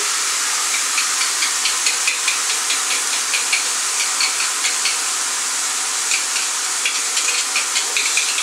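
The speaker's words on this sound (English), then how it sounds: "I'll pour that in there, it's sizzling away." Steady, bright sizzling of food frying in a hot pan, with a continuous hiss and small crackling pops throughout, close and fairly loud.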